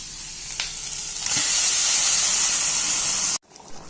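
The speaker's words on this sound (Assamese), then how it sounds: "এতিয়া মাংসটো পাৰাকৈ ভাজি লৈছোঁ তাৰপিছত এই ৰঙালাও আলু" Pieces of local chicken and sweet potato fry in hot oil in a village kitchen, the sizzle swelling to a loud, steady hiss before cutting off abruptly near the end.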